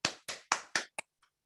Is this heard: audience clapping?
yes